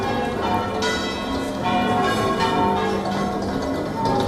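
Church bells rung by bell ringers peal continuously in overlapping, ringing tones, loud and full with no pauses.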